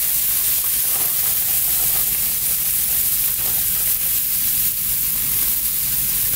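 Peppers and onions sizzle steadily in a hot pan, a constant loud hissing fry with light stirring scrapes and no talking.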